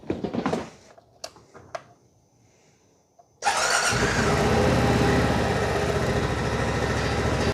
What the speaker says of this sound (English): we need to let the engine run for a little bit